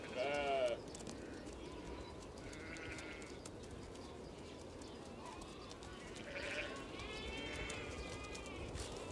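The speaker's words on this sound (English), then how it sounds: "Domestic sheep." Domestic sheep herded by Kazakh nomads on the open steppe bleat in a few short, wavering calls, one near the start and more around two-thirds through, over a steady outdoor wash with faint bird calls.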